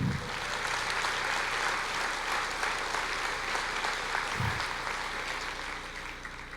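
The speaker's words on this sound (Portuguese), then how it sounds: "Pode aplaudir o Senhor." A church congregation applauds steadily in a dense, even wash of clapping that holds for several seconds and fades slightly at the end, with a couple of low thumps.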